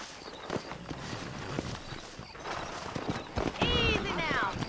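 Horse hooves clop in Red Dead Redemption on Xbox Series X, a steady walking rhythm of hoofbeats through the whole stretch, with a horse whinnying near the end and game dialogue voices over it.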